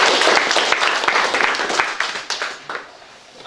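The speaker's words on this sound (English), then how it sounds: "let's clap for Armando." Classroom audience applause for a student speaker before a demonstration speech, a loud burst of clapping hands that thins into scattered individual claps and fades within a few seconds.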